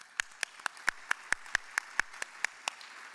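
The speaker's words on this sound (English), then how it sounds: "just a round of applause for them as well" A dozen or so sharp, evenly spaced hand claps ring out one at a time, fairly close and clear, as one or two people applaud at a gala Hall of Fame event.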